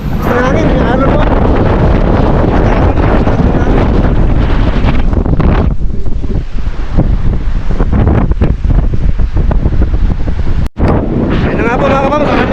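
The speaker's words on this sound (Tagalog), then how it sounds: "Lakas ng hangin, yung alon mo" Strong gusts batter the microphone at a shoreline while waves roll in beneath them, loud and constant, with a person talking over the roar.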